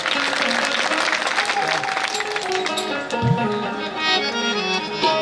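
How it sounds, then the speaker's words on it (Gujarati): Audience applause at a Hindu temple consecration festival in Sultanpura, a crowd clapping under sustained music tones, with a low thump near the middle. "એમને પણ તાળીના ગગડાથી બતાવો"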